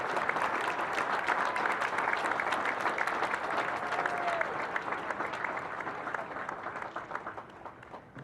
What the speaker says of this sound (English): please join me in a round of applause for the company staff of Company M.